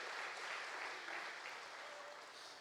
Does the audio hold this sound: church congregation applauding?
yes